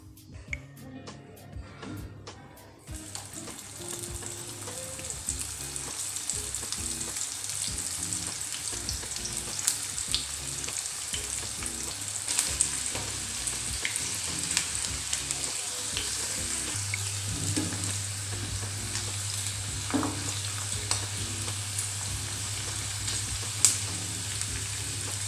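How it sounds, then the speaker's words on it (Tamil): Okra (vendakkai) frying in hot oil over a low flame gives a steady, continuous sizzle with fine crackling throughout, fairly close and unbroken, with no talk over it. "எண்ணெய் காஞ்சதும் நம்ம சிம்மில் வச்சுட்டு பொரிச்சு எடுத்துக்கலாம்."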